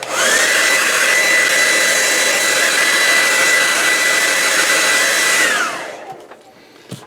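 A hair dryer blows on paint drying on a bo staff for a 6-7 inch action figure, a loud steady whirring roar held close for about six seconds before it switches off and winds down, leaving faint handling noises.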